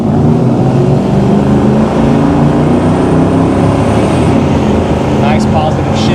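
A 1969 Chevrolet C10 short-wheelbase pickup with an LS3 V8 accelerates hard, its loud, close engine roar rising steadily with no talk over it.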